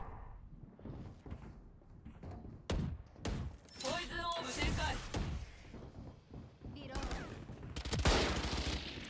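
Gunfire in a Valorant match, scattered sharp shots and short bursts with thumps, fairly faint, heard under people talking throughout.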